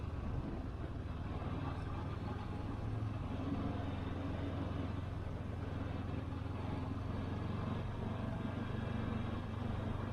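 A motorbike is ridden through the Chania mountains in April, its engine a steady low drone mixed with wind rush, constant and fairly loud throughout.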